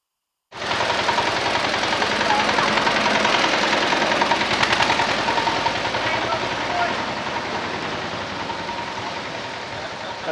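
An old tractor engine runs steadily and loud throughout, a dense rapid knocking chug close by with little change in rhythm.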